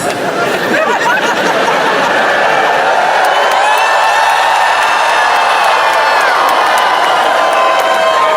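Large crowd at a J.D. Vance appearance letting out a loud, sustained collective vocal roar of booing or wooing, dense and continuous throughout.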